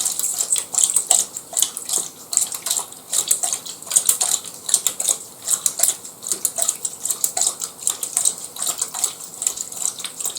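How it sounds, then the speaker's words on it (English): A thirteen-month-old black Labrador laps water from a bowl, fast rhythmic wet slurps repeating steadily for about ten seconds, close and alone without talk. "There he is, drinking his water"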